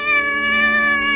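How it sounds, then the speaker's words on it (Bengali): A single drawn-out cat meow rings out at night, a clear, loud, steady cry lasting about a second. "ঘুম ভাঙল গভীর রাত্রে বিড়ালের ডাকের শব্দ শুনে।"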